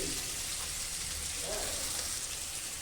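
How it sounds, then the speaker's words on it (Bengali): Greens fry in a pan with a soft, steady sizzle and faint crackle, low in level and continuous for a few seconds, with no voices. "এই যে এখন এগুলো ভাজাভুজি করে নিচ্ছে"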